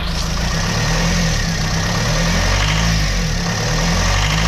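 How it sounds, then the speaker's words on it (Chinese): A diesel truck engine, just repaired after three fuel injectors failed from water-contaminated diesel, runs loud and close with a steady rough throb, the throttle blipped once early on before it settles back to idle. "试一下， 轰一下油门"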